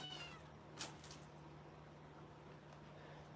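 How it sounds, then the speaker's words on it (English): A cat gives a short, faint meow close by in a quiet room, with a low steady hum underneath. "Watch out, kitty."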